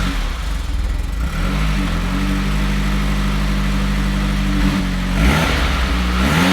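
Stock exhaust on a Mitsubishi Evo 10 with the engine revving up and down, a steady loud mid-pitched drone with rising and falling pitch sweeps and a final surge near the end, no talking.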